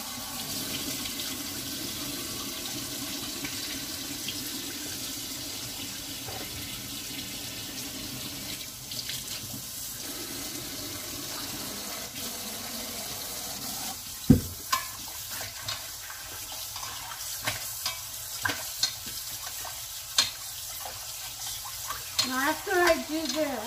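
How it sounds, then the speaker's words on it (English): A tap runs steadily while cut chicken pieces are rinsed under it, giving a continuous close hiss of water. Later the stream thins and gives way to wet handling splashes and clinks in a sink. No one speaks. "we're going to wash them, rinse them out real well, and then season them"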